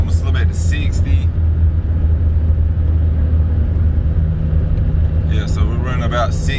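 A Honda CB7 Accord with a swapped JDM F23A SOHC VTEC engine cruises steadily at about 60 mph near 2,000 RPM, giving a constant low drone and road rumble inside the cabin while someone talks over it.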